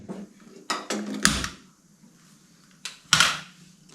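A metal lid goes onto a pressure cooker in a home kitchen with a couple of sharp clanks and scraping clatters, separated by a quiet pause.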